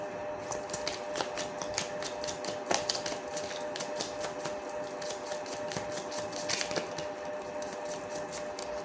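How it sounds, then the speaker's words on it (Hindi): Tarot cards are shuffled by hand, making a dense run of crisp, papery ticks and flutters that comes in short bursts. The sound is close and steady, with no talking over it. "My last shuffle."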